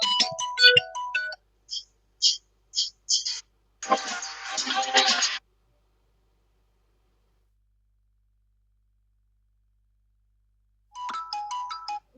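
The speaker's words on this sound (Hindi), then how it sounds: "रिंगटोन," A Redmi Note 10 Pro ringtone plays as a quick string of short bright electronic notes, followed by a denser burst of tone lasting about a second and a half, then silence, and a brief return of the tones near the end.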